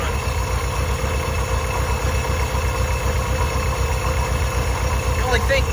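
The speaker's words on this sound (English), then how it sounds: "Listen how nice this motor runs." A 1955 Chevrolet Bel Air convertible survivor barn find idles steadily with a low, even engine rumble throughout, nearby and continuous, with a faint pulley noise in the background.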